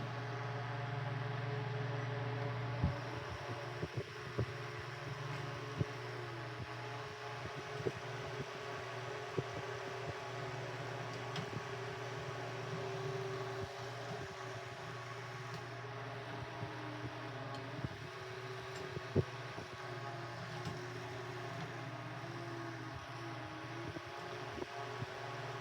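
A restored Westinghouse All-Purpose electric fan runs at maximum speed, giving a steady whooshing hum with faint mechanical rattles and occasional clicks, close and continuous with no talking.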